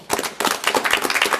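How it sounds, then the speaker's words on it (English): A small group of county commissioners at a board meeting claps briefly, a short burst of close, distinct hand claps. "Why don't the board just give them a round of applause then?"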